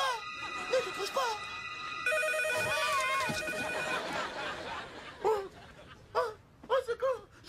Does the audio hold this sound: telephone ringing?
yes